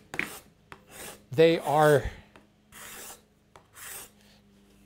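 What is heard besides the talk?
hand scraper scraping a wood surface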